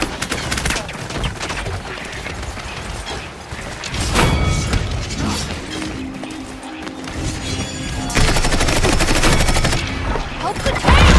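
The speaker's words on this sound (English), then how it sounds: "Enemies are firing on me!" Rapid bursts of gunfire and crashing impacts from the online hero shooter Paladins on PS4, loud and dense across the whole stretch, with game voices mixed in.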